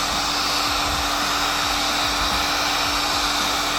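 A heat gun warms the engine casing of a Honda CB125 during a spare engine rebuild, producing a loud, steady, close-up whirring blast of air with a constant hum underneath and no breaks.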